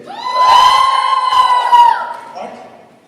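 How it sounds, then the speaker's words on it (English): Single women in a stand-up comedy audience give a short, shrill cheer of many voices that rises, holds, then trails off with a few scattered whoops. "All the single women, give me a cheer."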